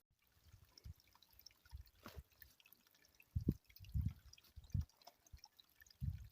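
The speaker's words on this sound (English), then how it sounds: "a brook running through" Faint water trickles and splashes softly, with intermittent low gurgling bursts of a small brook running over rocks in a quiet outdoor setting on Mount Washington, New Hampshire.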